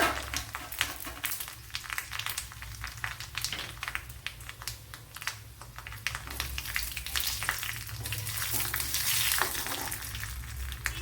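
Three cut dried red chillies fry in oil for a Kerala egg curry, giving a steady, fairly quiet sizzle with crisp crackling pops throughout.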